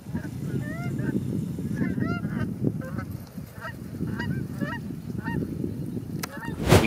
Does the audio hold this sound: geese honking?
yes